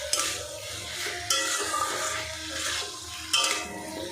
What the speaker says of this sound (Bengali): এবারে এর মধ্যে দিয়ে দেবো ভেজে রাখা পটল আর আলুটা। মশলার সাথে একটু নাড়াচাড়া করে নেব